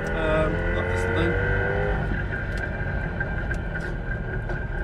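A two-stroke Zwickau P70 car engine drones as the car is driven, a steady buzzing note that shifts slightly in pitch, with a person speaking over it inside the car.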